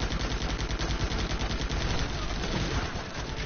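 Sustained rapid gunfire in a video game as players fire at an enemy turret, a dense, loud, continuous rattle of shots filling the whole stretch with little pause.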